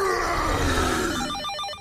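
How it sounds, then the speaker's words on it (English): Cartoon telephone bell rings in a superhero animated series, a bright, rapid trilling that pulses steadily beneath a busy, dense backdrop of music and effects. "That's just a phone, Hulk."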